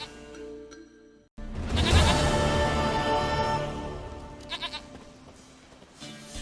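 A goat in The Witcher 3 lets out a loud, drawn-out quavering bleat that starts abruptly and slowly fades, followed by a few short fainter sounds near the end.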